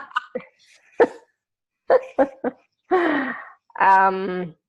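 A dog lets out a few short barks and yips between moments of quiet, close and fairly loud, ending in a longer whining, harmonic vocalization.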